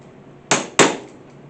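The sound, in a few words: chisel struck with a hammer on a wooden bowl blank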